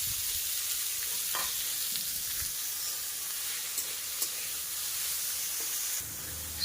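Boiled red amaranth greens sizzle steadily in hot oil with crushed garlic and green chilli in a wok, a continuous close frying hiss broken by a few soft scrapes of stirring.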